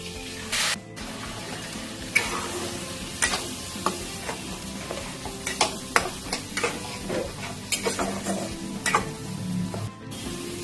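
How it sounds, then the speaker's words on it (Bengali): Onion paste dropped into hot oil already fragrant with whole garam masala and bay leaf for a prawn malai curry, giving a steady close sizzle with scattered spoon scrapes and stirring clicks throughout. "দুটো পেঁয়াজ আমি পেস্ট করে রেখেছিলাম, দিয়ে দিচ্ছি।"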